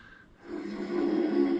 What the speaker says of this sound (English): looks like somebody's snoring very loud here.